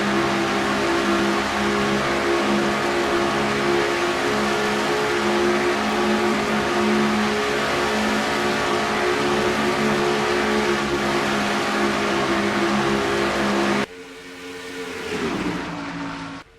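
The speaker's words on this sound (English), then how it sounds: "Turning some awfully high RPMs here at Charlotte Motor Speedway." Race cars howling around Charlotte Motor Speedway at close to 9,000 RPM, a loud sustained high-pitched engine drone that cuts off abruptly near the end, leaving a dropping, fading engine note.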